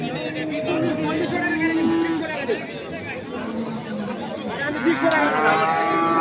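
A dairy cow with her calf moos a few times amid the steady chatter and crowd noise of a busy rural cattle market in Dinajpur, with people talking throughout.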